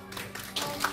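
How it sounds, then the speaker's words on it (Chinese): Guests applaud at an engagement ceremony in a hall, a brief burst of clapping over steady room noise that swells slightly near the end. "各位嘉宾，请掌声。"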